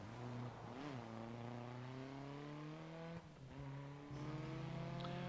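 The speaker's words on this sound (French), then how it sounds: "je suis en train d'apprécier énormément le bruit de cette Manta" An Opel Manta's engine in a racing video game hums steadily and rises in pitch as it revs, with a brief shift or dip midway, faint and alone.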